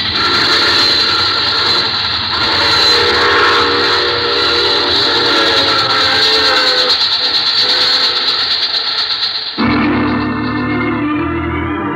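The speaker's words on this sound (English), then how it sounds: "I take this same train every week at this time." A train rumbles steadily along the rails with a constant loud clatter and a high whistle-like tone, then the sound shifts abruptly near the end.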